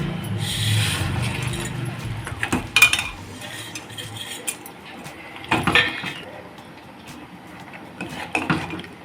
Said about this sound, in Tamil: இப்போ சேமியா போட்டு வறுத்துக்கலாம்.